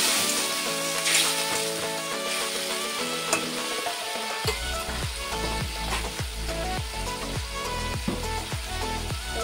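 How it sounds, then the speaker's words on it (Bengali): Onions for egg biryani fry in a pan with a steady sizzle. About halfway through, the sound swells into a loud, bubbling hiss with repeated scraping from stirring, and no voices are heard. "আর একটুখানি জল দিয়ে দেবো যেহেতু পেঁয়াজগুলো পুড়ে যাচ্ছে"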